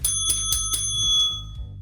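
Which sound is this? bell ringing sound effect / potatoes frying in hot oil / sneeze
bell ringing sound effect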